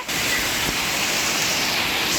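Dense, roaring downpour of hail and heavy rain fills the air with a constant broadband hiss, loud and unbroken; individual hailstone impacts aren't distinct, and no one speaks.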